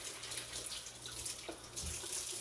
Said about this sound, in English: Rinse my pan out.